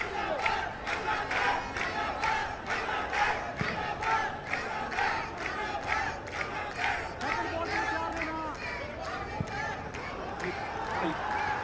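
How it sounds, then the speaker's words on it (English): A football crowd at a SAFF U20 Championship match between Pakistan and Bangladesh chants and cheers in rhythmic, rising waves throughout, loud and sustained, with a commentator's voice heard intermittently. "Listen to the cheer."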